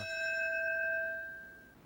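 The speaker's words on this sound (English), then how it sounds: "the bell that symbolises a fallen firefighter sounding for the very last time" A single memorial bell for a fallen firefighter rings once at a ceremony, a clear, loud metallic strike whose bright tone hangs and slowly fades over nearly two seconds, with no talking.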